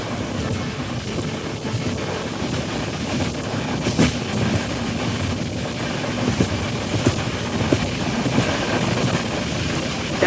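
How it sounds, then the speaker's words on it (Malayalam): A passenger express train runs along hauled by a diesel locomotive, a steady, continuous rumble and rattle of wagons on the rails with faint clacks, heard from on board without pause. "ട്രെയിനിന്റെ ലോക്കോമോട്ടീവ് ഇപ്പോൾ ചേഞ്ച് ആയിട്ടുണ്ട്"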